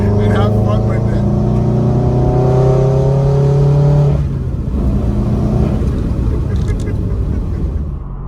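A bagged Subaru WRX engine drones at steady high revs from inside the car, its tone holding, then dropping away as the throttle eases, with a lower rumble continuing under the cabin noise.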